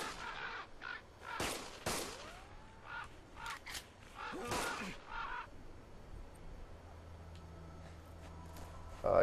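Crows in the video game Cabela's Survival: Shadows of Katmai, several harsh caws in close bursts early on, with faint game ambience and a low hum afterward.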